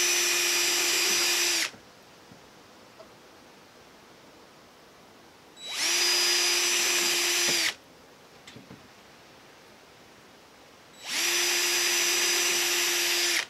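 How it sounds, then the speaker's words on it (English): A small power drill boring through a wooden beehive frame while wiring wax foundation, heard as three separate whining bursts of about two seconds each, loud and close, with quiet pauses between them. "Just merely run the drill through."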